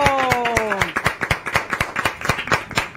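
Studio audience on a Spanish-language TV show claps in steady, rhythmic beats, fairly close, with a voice trailing off at the start.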